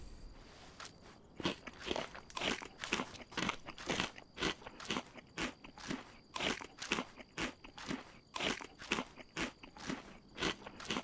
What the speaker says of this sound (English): Crunchy beans.